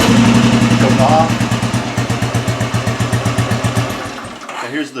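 A 2004 Royal Enfield military-version motorcycle with a short exhaust runs loud and close, its single-cylinder thump pulsing in an even rhythm before slowing and cutting off, with a voice briefly over it.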